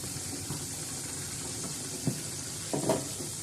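Fish fries in oil, sizzling steadily throughout, with a couple of sharp pops and crackles near the end.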